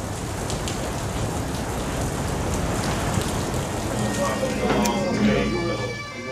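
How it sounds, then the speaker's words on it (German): Steady, dense Galician rain in Finisterre, Spain, patters on surfaces throughout, close and loud, with a few brief brighter tones near the end. "Und dann erwischt er mich doch, der galizische Regen."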